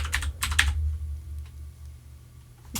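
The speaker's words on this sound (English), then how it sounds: "A mechanical keyboard typing away in the background." Mechanical keyboard keys clattering in a quick burst of typing at the start, then a few isolated keystrokes against a quiet room hum.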